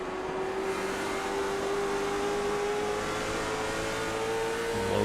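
A late model race car engine holds steady at high revs on the rev limiter at the end of a straightaway, a loud, continuous buzzing drone with no talk over it.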